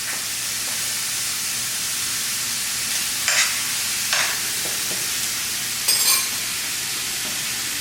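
Shrimp frying in butter in a pan for a spicy Mexican a la diabla dish, a loud continuous close sizzle broken by a few brief clinks and stirring bursts, with no talk.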